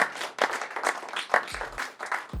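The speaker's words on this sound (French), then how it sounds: "On peut l'applaudir." A small studio audience at a French senior talk show claps in a short, uneven burst of separate hand strikes that rises and dips, with a brief voice cutting in near the end.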